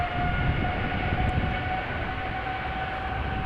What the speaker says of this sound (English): 3 airplanes coming this way